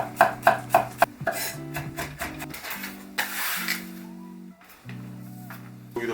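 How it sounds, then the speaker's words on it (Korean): Garlic being finely minced with a knife on a board, with a quick burst of crisp, rapid chopping taps, then a few sparser knocks over soft background music. "마늘 같은 경우는 이제 곱게 다져주시면 됩니다."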